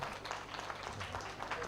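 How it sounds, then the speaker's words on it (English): Faint, steady applause from an audience at a public lecture, continuous clapping that sounds distant and soft throughout. "Can I have a louder applause?"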